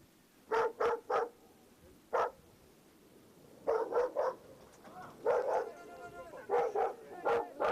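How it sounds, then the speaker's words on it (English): A large dog in Afghanistan barks in clusters of two and three sharp, loud woofs separated by short pauses, with a faint whimper between bursts, fairly close over quiet background. "when they encounter a large dog"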